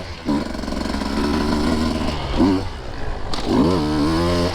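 A 2023 Husqvarna TE150 two-stroke dirt bike engine lugs at low revs and then picks up into the mid-range, a close, buzzy, rising drone with throttle surges, under someone talking.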